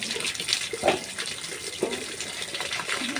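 Cold water pours and splashes for an outdoor bath in the Iloilo countryside, a broad running gush with a few sharper splashes, fairly close and steady throughout, no talking.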